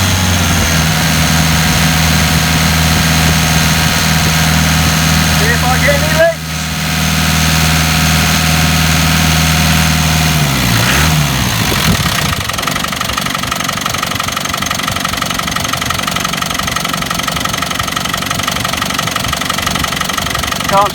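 A Land Rover Discovery 200TDi diesel engine idles steadily with a loud, rough knocking clatter, running close by and continuously with a slight change in tone partway through, while a voice speaks over it.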